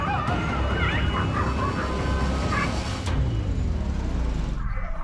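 Stray dogs yelp and whimper in a street in Sangli as a municipal team chases and catches them, with a loud, continuous rumble of street noise and scuffling underneath.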